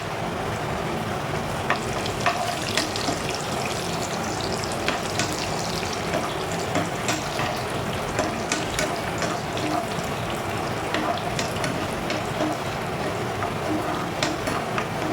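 Black and white raisins frying in a pan for sweet kanji, a dense, steady sizzle and crackle close up, with light scraping and faint background murmur throughout.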